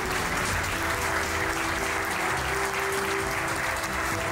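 Sustained applause from staff gathered at the inauguration of a company's new headquarters, even and continuous clapping with a faint tonal hum beneath, no talking.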